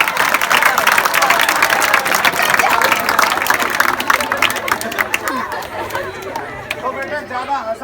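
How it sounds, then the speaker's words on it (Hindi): A school audience claps on request amid lively crowd chatter, with quick scattered claps under the babble of voices. "ताली दो, ताली दो।"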